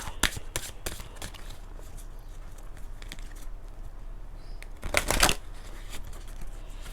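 Romance Angel oracle cards being shuffled, a soft papery riffle with a brief flurry early on and a louder, denser burst near the end, close and quiet with no talking.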